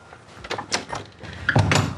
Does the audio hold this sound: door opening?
yes